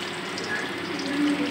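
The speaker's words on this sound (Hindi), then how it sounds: "तो पानी डालना होता है" Water poured steadily into a gram flour batter, a continuous soft splashing trickle with no talk over it.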